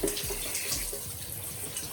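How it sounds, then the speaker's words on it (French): Water runs steadily from a shower, a continuous broad hiss with a few low splashing patters throughout, fairly close and with no voices. "Là, je vais aller sous la douche."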